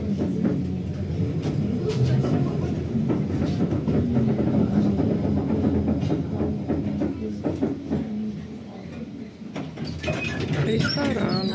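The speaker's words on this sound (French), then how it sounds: "Le tramway il est ancien" An old tram rumbles through a city with a steady low rolling drone and rattling clatter, heard from inside the car with faint voices in the background.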